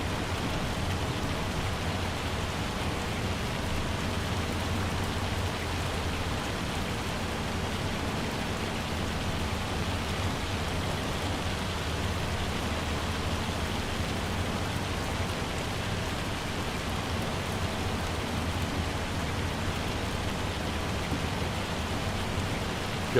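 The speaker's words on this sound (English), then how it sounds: "The sound of the hail coming down is almost a perfect recording of it" Hail falling steadily in the farming game Farming Simulator 25, a dense, continuous hiss of pattering impacts at constant loudness, even and unbroken throughout with no voices.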